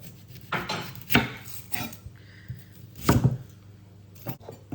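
A knife chops onion on a wooden board in a few separate close thuds and taps with quiet gaps between them, and no voice is heard.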